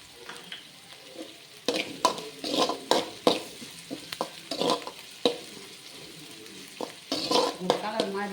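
Food sautéing in a hot pan for egg pasta, with soft sizzling under repeated sharp scrapes and clinks of a spoon stirring against the pan, close and moderately loud, no speech.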